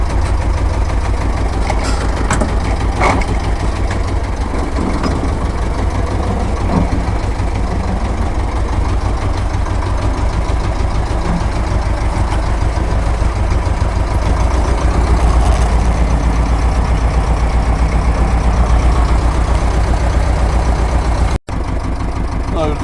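A tractor engine runs steadily through winter ploughing, a loud, continuous low rumble with a constant idle-like drone that never lets up, close by and filling the whole stretch.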